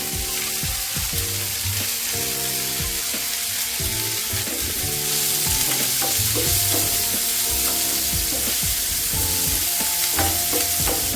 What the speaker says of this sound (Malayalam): ഇനി നമുക്കിതിനകത്തേക്ക് ചെറുതായിട്ട് അരിഞ്ഞു വെച്ചിരിക്കുന്ന ചുവന്നുള്ളി ചേർത്ത് കൊടുക്കാം.